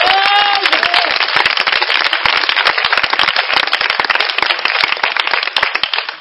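Loud, sustained applause with cheering from a church congregation acclaiming Jesus, dense clapping filling the space continuously, with a brief voice near the start.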